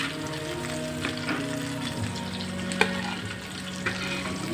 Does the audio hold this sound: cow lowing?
no